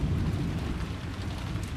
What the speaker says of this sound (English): the sound of thunder,